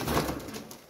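An imported Teddy pigeon pair gives a brief, close, soft cooing call, with no talking.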